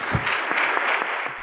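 Audience applause for a guest at a literary talk event, dense steady clapping from a crowd filling the short stretch without a break.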